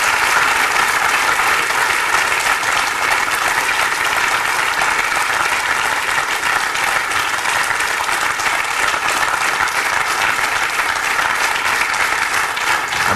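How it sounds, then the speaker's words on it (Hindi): A television quiz show studio audience applauds steadily and loudly, a dense unbroken wash of clapping that holds its level throughout with no pauses. "तालियां बजती रहनी चाहिए"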